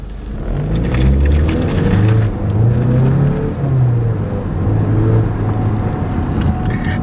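A car engine revs in an open outdoor setting among mountains in Dubai, giving a loud, sustained rumble that swells and eases over several seconds, with faint voices in the background.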